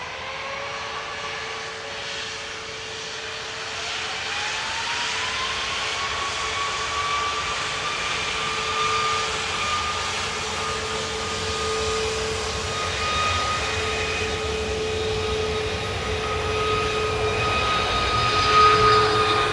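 A Ryanair jet takes off from runway 10R at Dublin Airport, its engines a steady, loud roar with a rising whine that holds throughout, heard from outside near the runway.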